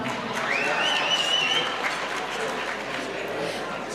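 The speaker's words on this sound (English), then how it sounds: "let's applaud to them as they are taking a photo" At a school awards ceremony, an audience applauds steadily for several seconds while winners pose for a photo, the clapping dense and even with a faint whistle-like tone near the start.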